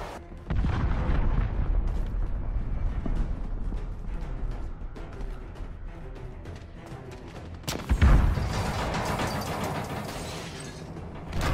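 Heavy booms from a cruise missile strike in Call of Duty: Modern Warfare roll under dense, continuous battlefield noise, with one sharp, deep blast about two-thirds through followed by a sustained rumbling barrage.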